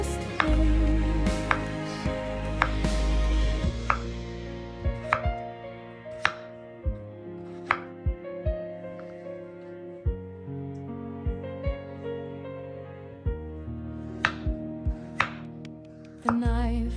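A knife cuts food on a board with a series of sharp, separate chopping knocks at an unhurried, irregular pace, set over soft background music.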